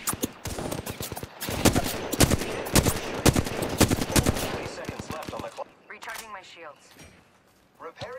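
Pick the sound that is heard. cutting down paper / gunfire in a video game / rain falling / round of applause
gunfire in a video game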